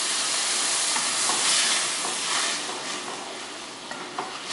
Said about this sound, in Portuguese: Eu vou colocar mais ou menos 3/4 de vinho branco.